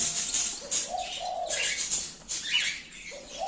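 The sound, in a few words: zebra finch calling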